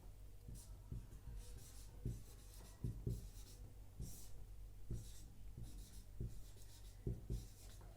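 Marker or chalk writing a formula on a classroom board during a Class 10 physics lesson on light refraction, with steady scratching strokes and short taps in irregular rhythm, close and moderately loud, with no talk.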